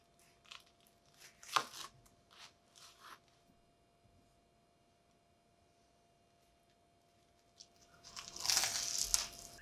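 A crispy black bean burger patty gives a few close, dry crunches in quick bursts, then a quiet lull before a louder run of crackling bites near the end, with no talking.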